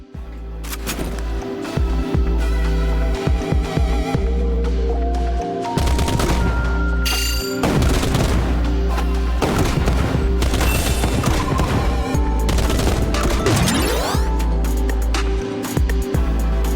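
Grenade launcher fire in the mobile shooter Nikke, during a Resident Evil collaboration minigame: dense, continuous barrage of loud repeated shots and booms over steady game music, with no talking.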